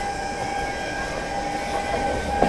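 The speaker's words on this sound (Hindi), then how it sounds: "ये कोई ट्रेन अभी रानी कमलापति स्किप मार रही है।" A train passing through Rani Kamlapati railway station near Bhopal gives a continuous, moderately loud rumble with steady humming tones and a brief knock near the end, with no voices.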